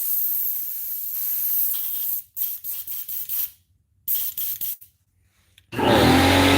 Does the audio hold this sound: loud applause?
no